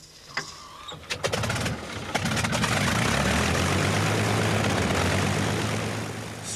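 Propeller fighter plane from the early Second World War era roars past in flight, starting with a few clicks and rising to a loud, sustained engine drone that fades slightly at the end.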